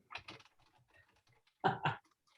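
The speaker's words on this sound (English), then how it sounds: "my keyboard is loud" A loud computer keyboard being typed on in short bursts, crisp clattering key strikes close to the microphone with quiet gaps between clusters.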